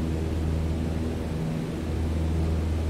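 An airplane taking off in Microsoft Flight Simulator, a steady smooth engine drone with a low rumble holding at even loudness throughout, no talk over it.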